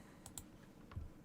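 Someone types on a computer keyboard, producing a few soft, scattered key clicks that are faint and close, with no talking.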